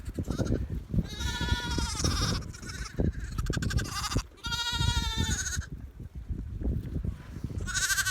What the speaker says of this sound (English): Behind me you can see some examples of some native Shetland ewes, a mix of colours, fleeces,